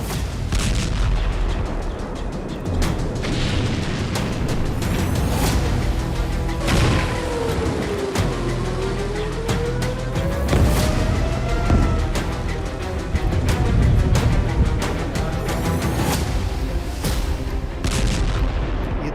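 Explosions from an IDF strike in Khiam, southern Lebanon, sound as loud, rolling booms and heavy blasts that keep coming through a dense, continuous rumble, with no voices over them.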